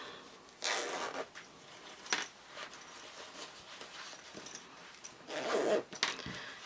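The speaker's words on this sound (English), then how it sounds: "you want to start by closing your zipper a little bit" A zipper on a fabric dumpling pouch is pulled in a few short, scratchy runs separated by pauses, close and fairly loud, with small handling clicks between.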